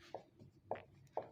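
A teacher writing on a board during a lesson, three distinct knocking strokes of chalk or marker spaced evenly apart, close and fairly clear against a quiet room.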